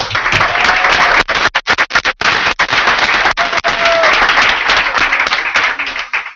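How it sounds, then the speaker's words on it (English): An audience breaks into sustained applause for Coach Thomas, dense clapping from many hands filling the room, with a few sharp gaps and louder individual claps near the start. "so we can give him a round of applause to begin with"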